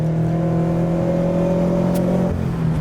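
A Subaru BRZ engine drones steadily while driving through canyon roads, a loud, continuous in-cabin hum with strong low harmonics that shifts pitch slightly near the end, with no talking.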